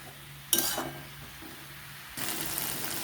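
Potatoes and onion stalks with poppy seed are stirred in a pan, giving two bursts of scraping and clinking against a faint simmering sizzle, the second stretch longer and steadier.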